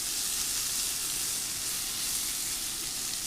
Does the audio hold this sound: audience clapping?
no